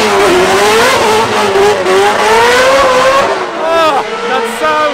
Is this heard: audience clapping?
no